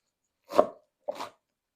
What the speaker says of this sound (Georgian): ძალიან წმინდად არ უნდა დაჭრილი მწვანილი, რომ იგრძნობოდეს მწვანილის გემო.